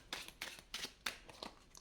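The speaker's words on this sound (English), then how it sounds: "I'm going to shuffle the mob song back in." Disney Lorcana cards being shuffled by hand, a quick run of five or six faint riffling snaps close by in a quiet room.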